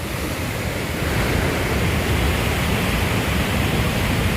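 Strong river current rushes in a dense, continuous roar of turbulent water, loud and close with no pauses and no voices.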